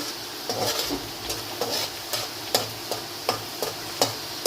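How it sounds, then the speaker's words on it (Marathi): Onion frying in oil in a pan for chicken curry, a soft continuous sizzle punctuated by regular spatula scrapes and taps roughly every half second, close and clear. "आता हा कांदा भाजत आलेला आहे"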